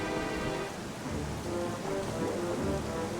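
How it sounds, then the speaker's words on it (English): Steady in-game rain in The Legend of Zelda: Twilight Princess, pattering densely on a surface, continuous and fairly close, with no voices. "it is raining"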